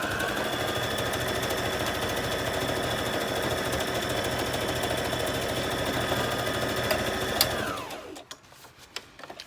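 A sewing machine stitches a junk journal page with a fast, steady mechanical whir heard up close, running continuously before stopping abruptly near the end, followed by a few small clicks.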